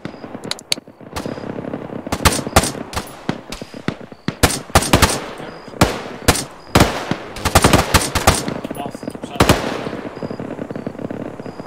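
Heavy gunfire from behind in an ARMA 3 military game battle: repeated loud bursts of automatic weapons fire and single sharp shots, fairly close, continuing throughout with a brief lull near the end.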